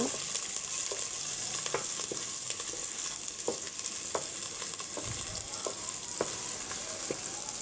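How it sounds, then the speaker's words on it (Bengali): Chopped onion and green chili stir-fry in oil with a continuous crackling sizzle, while frequent spatula clicks and scrapes land at an irregular pace, all close up with no talking. "পেঁয়াজ কুচি কাঁচামরিচ কুচি এবার একসাথে নেড়ে চেড়ে ভেজে নেব"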